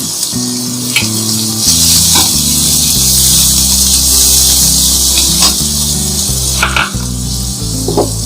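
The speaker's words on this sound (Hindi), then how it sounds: "तो इसको पकाएंगे 2 से 3 मिनट तक। थोड़ा सा पानी डालेंगे।" Chana dal gosht masala frying in a pan, with water added, giving loud continuous sizzling and bubbling throughout, joined by a few clinks of utensils and no talking.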